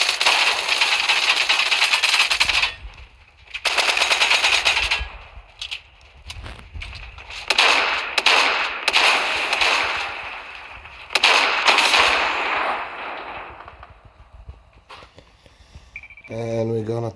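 Gunfire in a video game, bursts of sharp loud shots and booming blasts in clusters separated by quieter gaps, with game sounds and a voice talking over parts of it.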